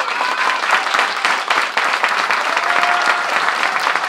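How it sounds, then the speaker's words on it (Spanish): Steady, loud applause from an audience, dense clapping filling the whole stretch without pause. "que reciba un aplauso,"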